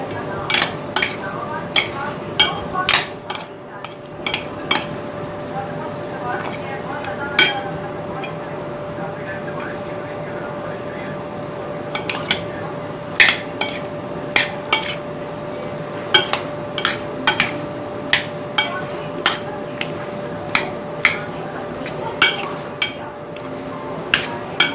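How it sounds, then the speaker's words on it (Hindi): A spoon stirring chickpea salad with ketchup in a bowl, bursts of sharp clinks and scrapes, clustered irregularly and sparse at first, then quickening toward the end over a steady hum. "केचप ऐड कर दें, इसको बहुत अच्छी तरह से मिक्स कर लें।"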